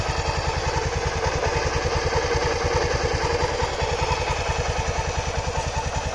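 A 1999 Honda Vigor 650 motorcycle with 18,000 km on it idles close by, its single-cylinder engine thumping in a fast, even, steady rhythm with a light mechanical clatter on top, running alone.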